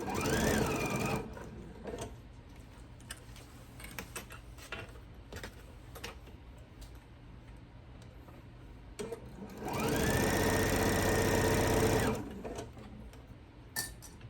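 A sewing machine stitches a scant quarter-inch seam across a quilt row. It makes two bursts of steady whirring, a short one at the start and a longer, louder run near the end, with quiet handling noise between them.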